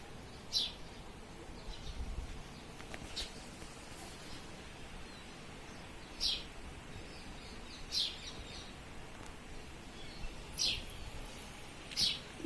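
Bulbul and sparrows chirping outdoors, about six short bright calls spaced every couple of seconds, fairly faint over a soft hiss of background noise.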